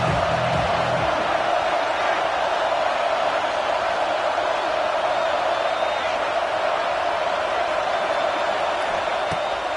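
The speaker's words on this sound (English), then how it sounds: "Decibels rising as the crowd gets behind this defense on 3rd down." A stadium crowd in the NCAA 26 college football video game roars steadily behind the defense on a third down, a broad, constant wash of cheering that holds at one level.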